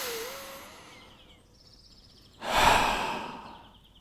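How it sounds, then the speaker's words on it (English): A single deep sigh-like exhalation, a long breathy rush of air that swells and fades over about a second and a half, close and clear, with a faint high whistle earlier. "maybe you can start by taking a very nice deep breath"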